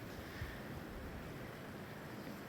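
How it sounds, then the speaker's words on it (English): Poudre River water flowing outdoors, a steady broadband rush heard close and continuous, with some wind buffeting the microphone and no voices. "We up here at the Poudre River."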